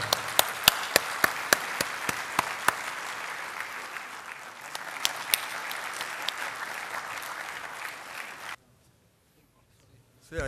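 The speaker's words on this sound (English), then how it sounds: "A big round of applause for Chopra sir." An audience claps for CA Amarjeet Chopra at an ICAI Dubai Chapter seminar, a sustained round of applause with a few sharp close claps at first, running about eight seconds before stopping abruptly into near silence.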